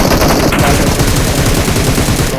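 Rapid automatic gunfire from a video game shootout, loud and continuous, with dense overlapping bursts throughout and no talking.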